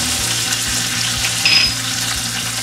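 Curry leaves and green chillies dropped into hot oil with lightly browned garlic for a red pumpkin sabzi. A loud, steady sizzle fills the clip with soft rhythmic stirring and a brief faint beep midway, with no talking.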